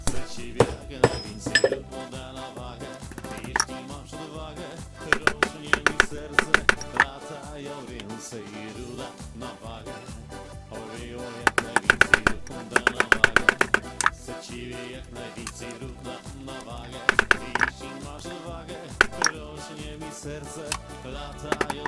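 Metal scrap struck repeatedly with a hammer to free copper, bursts of sharp ringing blows in clusters separated by pauses, close and loud with clinking metal.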